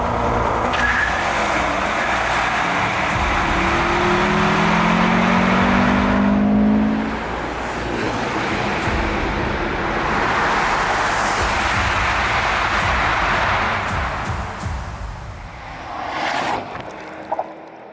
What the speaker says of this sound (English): The Mercedes-AMG S63E Performance, an 802 horsepower missile that can rip through time.